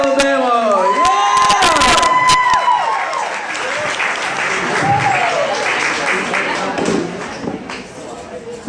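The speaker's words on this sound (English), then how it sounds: "put your hands together for Ryan Adams" Audience applause and cheering greet comedian Ryan Adams at a Mobile, Alabama comedy festival, loud and sustained for several seconds with whoops from the crowd, then settling into steady clapping.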